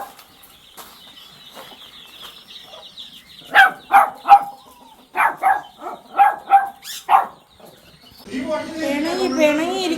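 A puppy gives a run of about eight sharp, high yaps in quick succession, close by. A voice follows, talking affectionately.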